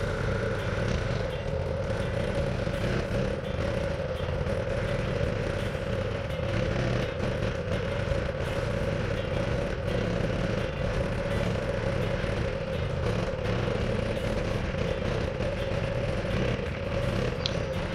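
A Coleman CT200U EX mini bike engine runs steadily during a test ride on dirt, a constant near drone with a fairly even level and no talk.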